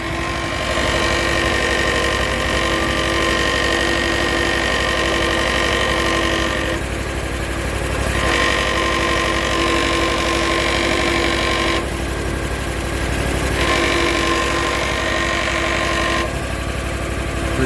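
A Hustler lawn mower engine idles steadily and loudly close up, its frame rattling and vibrating throughout, with a few brief dips in the rough drone.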